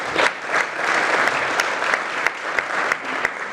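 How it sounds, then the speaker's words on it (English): A luncheon audience gives a round of applause, a moderate, steady patter of many hands with a few sharper individual claps standing out near the end. "So I just want to have you give yourselves a round of applause for that."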